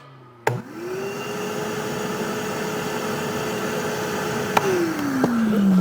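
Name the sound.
DeWalt Stealth Sonic wet dry shop vac running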